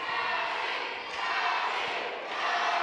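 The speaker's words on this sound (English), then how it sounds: "Listen to this crowd" Wrestling crowd at a heavyweight title tournament cheering in a steady, loud roar that swells and dips slightly, a dense wall of voices from an arena audience with no distinct speech.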